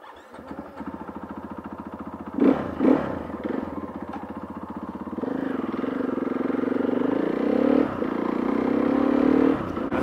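A KTM 450 EXC-F rally motorcycle idles, then revs and pulls away, its single-cylinder engine rising in pitch and loudness as it rides off, without talk.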